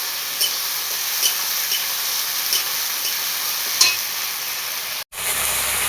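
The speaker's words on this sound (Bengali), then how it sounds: "মশলাটা কষে নেব" Spice paste fries and is stirred in a pan for a rohu fish curry with elephant foot yam. A steady, close sizzle runs throughout, broken by occasional scraping stirs and a brief cut near the end.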